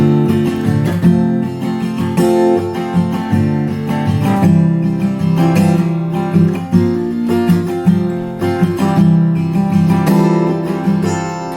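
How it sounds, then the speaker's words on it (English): Acoustic guitar strumming pattern played up close with a steady rhythm, the second down strum of each pattern accented, ringing chords continuing throughout without talk. "And you can also add in those accentuated strums on the second down strum of each strumming pattern"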